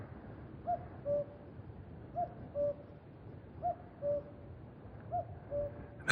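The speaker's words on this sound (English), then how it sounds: "Can you hear the cuckoo bird?" A cuckoo calling in the Torridon countryside of Scotland, its two-note call repeated four times at an even pace, moderately distant and clear over a soft outdoor background.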